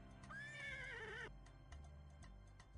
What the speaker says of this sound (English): Nice horsey.